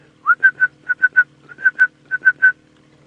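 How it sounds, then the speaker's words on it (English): A red-crested korhaan's clear, repeated whistling call, about a dozen short tonal notes in rhythmic groups of two or three, fairly distant over a low hum. "I've heard a red-crested koran that's been calling quite a while."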